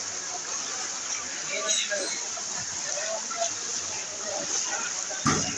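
Floodwater splashes and rushes on a street in Mirpur 10, Dhaka, after a heavy storm: a constant loud wash of water with scattered sloshes and one sharp splash near the end, with faint voices in the background.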